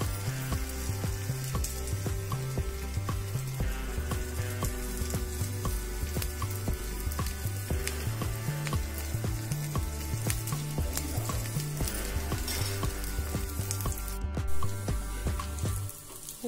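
Taro leaf rolls (alu vadi) fry in a pan of hot oil, giving a steady, close sizzle that crackles without a break. A few faint stirring sounds come through and nobody speaks.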